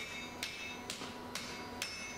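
Hatchet steel being hammered on an anvil while roughing out a folded hatchet: four evenly spaced, sharp metallic strikes, moderately close, over a steady background hum.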